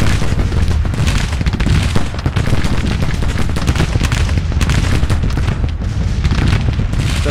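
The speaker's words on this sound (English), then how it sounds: "I want you to fire on the second floor" Massed musket volleys in the Grand Tactician American Civil War strategy game, a dense, continuous roll of overlapping gunshots and booms throughout, loud and unbroken with no voices.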